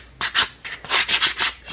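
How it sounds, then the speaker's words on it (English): Sandpaper is rubbed by hand along the edges of small wooden pieces in a rough sanding, making about five or six quick, close scratchy strokes in an uneven rhythm with no talking. "I'm going to give the edges some sanding just so they're not so"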